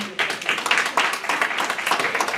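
Audience clapping at a criminal studies academic conference, a small group's brisk, distinct handclaps close by, with individual claps audible in an uneven rhythm.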